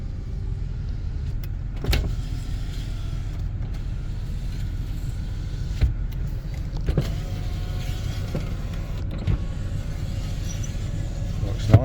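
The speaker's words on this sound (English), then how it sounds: "All the power windows are working." Power windows on a low-mileage JDM Nissan Terrano 4WD run in repeated cycles, a steady low motor whine with brief clunks as the glass stops, close inside the car.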